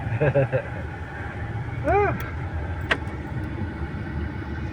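Low steady engine rumble and road noise fill the cabin of a moving car, with someone talking briefly over it and a short whine midway.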